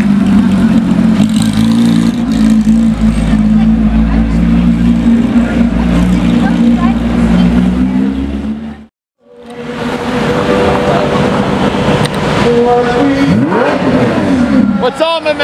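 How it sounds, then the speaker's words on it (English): Porsche GT2 RS Weissach with a straight-pipe exhaust revs loud and close, a raw rising engine roar that cuts out briefly midway and then returns with another climbing rev, while people talk excitedly nearby. "Another GT variant of the Porsche. And this one's definitely straight pipe."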